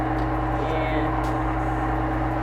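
An electric ice cream maker runs with a steady, even motor hum and drone, constant and close throughout with no pauses.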